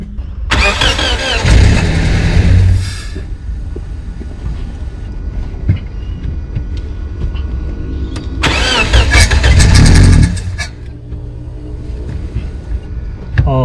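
A 2008 Toyota Hiace van with a leaking head gasket and a suspected faulty ignition coil cranks in two loud bursts, each a few seconds of churning starter and engine noise, with quieter idle-like rumble in between.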